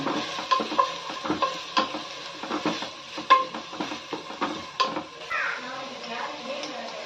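Corn being sautéed in a pan for coconut milk pulao, with irregular clinks and scrapes of a spoon against the metal pan over a low sizzle, close up and without speech.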